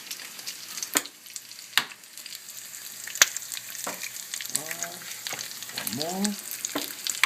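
Bacon and eggs fry in a pan, a steady close crackling sizzle with sharp pops and utensil clicks, while a voice briefly talks over it.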